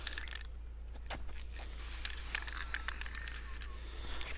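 Primer sprayed from a can onto a factory Nissan GQ Patrol air box with bare metal showing, a soft hiss in a few short bursts over low steady background hum, no voices.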